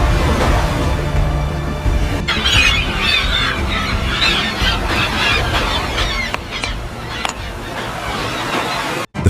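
Seabirds cry and squawk in loud, repeated bursts over the crashing roar of ocean waves, with a voice narrating alongside.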